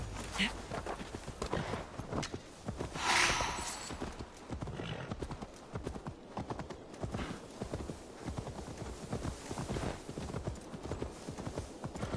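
Horse hoofbeats in the video game Assassin's Creed Valhalla, a steady close clip-clop that runs throughout with an occasional whinny and a voice speaking over it.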